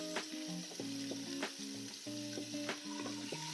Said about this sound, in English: I'm going to add just a couple of tablespoons more of oil, and now we'll add our onions.